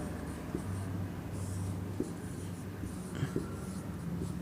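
Chalk tapping and scratching on a board during a Hindi-medium physics lecture on electrostatics, soft intermittent strokes with small taps, fairly faint over a steady room hum.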